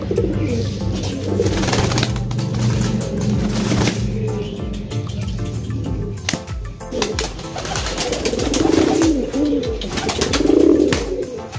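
Repeated low, rolling coos from losdor racing pigeons sound close by over a steady background hum and scattered rustling, growing louder toward the end.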